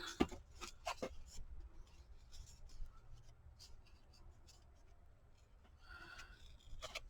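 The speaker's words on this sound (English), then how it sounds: "It does not want to tear" Sturdy, heavily textured paper is torn by hand in short, close scratchy rips with quiet pauses between efforts, faint and intermittent.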